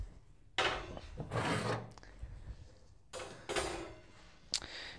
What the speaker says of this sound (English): take the shelves out.